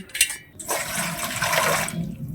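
Water drains from fish in a basket with a steady, close rushing and splashing that swells after a short spatter and runs continuously before easing off, with no talk.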